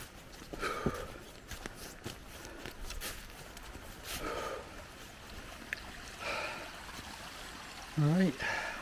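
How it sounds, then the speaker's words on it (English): Hiking boots splash through a shallow burn crossing a Land Rover track in Scotland, with scattered wet footsteps and trickling water, fairly faint and close, and a voice briefly heard. "It's quite nice splashing through these burns going across the Land Rover track."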